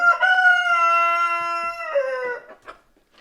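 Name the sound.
American Bresse roosters crowing in the coop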